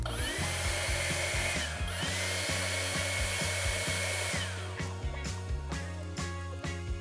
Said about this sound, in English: then you take your leaf blower. It acts as a bellows with a shot of oxygen in there to get it going